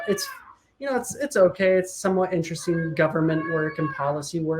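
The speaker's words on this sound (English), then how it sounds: "Sorry if you can hear my cat." A house cat meows briefly at the start, close to the microphone, during a casual home video conversation. A person then talks steadily over the rest of the clip.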